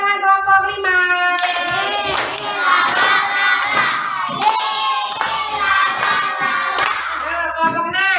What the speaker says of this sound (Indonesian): Tepuk tangan kelompok 5.